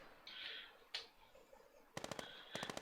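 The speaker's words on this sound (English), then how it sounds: "shooting through the slit in the fence" Video game gunfire through a slit in a fence: a single shot, then two quick bursts of sharp rapid automatic fire, fairly close, with no talk over them.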